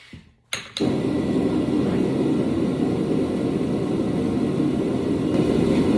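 After a couple of clicks, a forge's loud, steady roar kicks in and holds, a dense rushing blast like a jet engine, close and continuous.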